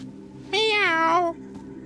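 A single drawn-out video game cat meow with a rising then falling pitch, clear and close, over a faint steady background hum.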